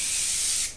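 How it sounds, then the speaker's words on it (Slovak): Morphe setting spray mists onto a face in one steady, close, loud hiss lasting under a second before trailing off. "Vyskúšam si prestriekať s ním tvár."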